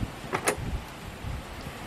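A Schlage keypad deadbolt's motor drives the bolt open in a short whirring burst near the start, followed by faint clicks and low handling rumble, close by with no talking.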